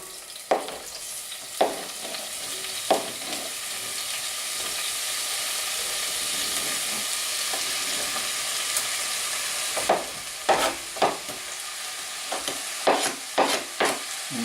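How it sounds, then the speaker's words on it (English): Black bean and corn salsa is stirred with a knife in an enameled pot, giving a steady soft sizzling hiss broken by scattered clinks and scrapes that grow quicker near the end. "Use our knife to stir a little bit here."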